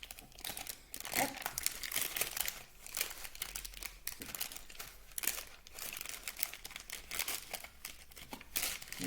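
Paper crinkling inside a Blissim beauty box, a run of close, irregular rustles and crackles as the sheet is handled, with a voice talking in between.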